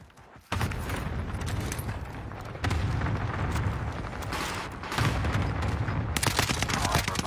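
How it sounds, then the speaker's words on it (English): Cluster airstrike explosions in a video game go off in rapid overlapping bursts, a dense crackling barrage that swells in three loud waves and carries on without a break. "Cluster strike is active."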